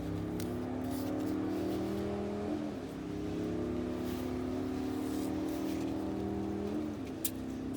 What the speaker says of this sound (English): I got Harleys and semis driving by